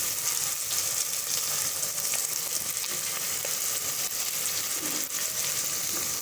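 Masala spices sizzle and fry steadily in a hot pan for an aloo matar pulao, a continuous close crackling hiss with faint stirring scrapes throughout and no talking.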